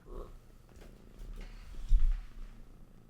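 A cat purrs softly and close by, a low continuous rumble that swells briefly in the middle, with no voices over it.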